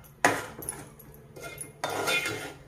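A spoon stirs red Malvani masala, chilli powder, turmeric and garam masala in a pot for egg curry, giving a few scraping clanks against the metal between quieter stirring.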